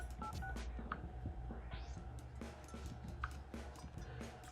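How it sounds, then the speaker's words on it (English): Dialing a call on a Samsung Galaxy S9 with LTE calls failing, a quick run of faint, closely spaced keypad tones and ticks over a steady low hum and background noise. "Let's try to make another phone call."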